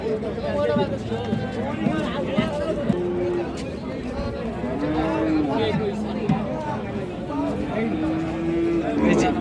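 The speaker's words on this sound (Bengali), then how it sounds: "এই যে এটা বকনা বাছুর কিন্তু" Sahiwal cattle, including a heifer calf, moo repeatedly amid a busy crowd, with people talking and chattering nearby at Ambari cattle market.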